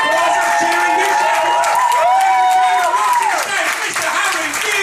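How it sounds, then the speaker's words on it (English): Crowd applause with clapping and cheering at a comedy show, a dense continuous roar of hands and voices with a tonal music-like layer running through it, loud and sustained throughout. "That's applause. That's cheering music."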